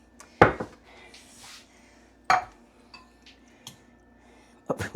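Tamari soy sauce being stirred into a Thanksgiving side dish, with a few sharp clinks and scrapes of a utensil against a dish and soft wet stirring between them, close and fairly quiet.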